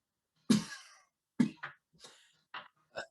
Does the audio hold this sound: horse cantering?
no